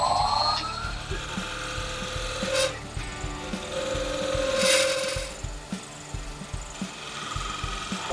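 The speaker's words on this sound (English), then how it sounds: "I just need to start up the lathe and cut my 2 little grooves" Wood lathe cutting small grooves in a spoon blank with a 3-point tool, with a steady hum from the spinning lathe and repeated rhythmic scraping and rasping contacts from the tool at close range.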